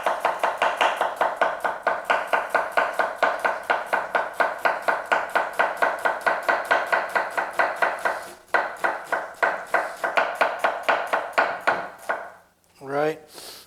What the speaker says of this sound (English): we're going to do a little bit of julienning